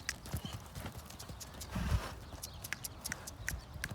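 A horse being lunged clip-clops in a steady rhythm of sharp hoof strikes at moderate distance, with a brief low snort in the middle and faint ambient noise.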